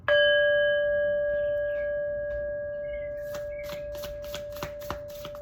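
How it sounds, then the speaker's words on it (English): A single struck bell for energy cleansing rings out loud and clear at the start, its pure sustained tones slowly fading over several seconds while faint clicks and shuffling sounds appear near the end. "I'm gonna hit this bell one more time to cleanse the energy."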